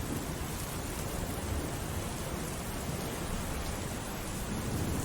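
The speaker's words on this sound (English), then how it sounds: "The storm outside raged fiercely" Rainstorm with thunder as a sound effect, heard as a dense, continuous roar of heavy rain with low rumbling underneath, steady and broadband throughout with no voices.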